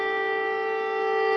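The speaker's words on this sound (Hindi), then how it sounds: "सायरन की आवाज आप सुन सकते हैं।" Air raid siren wailing over Kyiv during an alert, a loud sustained steady tone with strong harmonics, droning alone without any talk.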